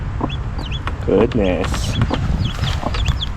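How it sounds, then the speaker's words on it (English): Several chickens cluck and chatter close by, including a hen with newly hatched peeping chicks and soft scuffling, while a person says a word over the flock. "Little update on our chickens."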